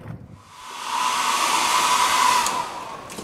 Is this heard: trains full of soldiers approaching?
no